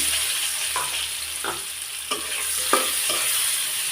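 Chopped onion fries in hot oil with whole cumin and bay leaf, giving a loud, hissing sizzle close by. A few spatula strokes scrape through it at intervals, and no talk is heard.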